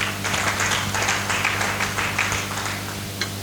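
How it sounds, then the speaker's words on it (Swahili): A church congregation claps together in steady, dense applause during a Sunday service, sustained for a few seconds and fading slightly toward the end. "Mpigie Mungu makofi kama unaamini hivyo"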